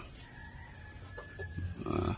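Chickens cluck on a Filipino farm, short faint calls from the hens and a rooster against a steady background hiss, with one louder burst of clucking at the end.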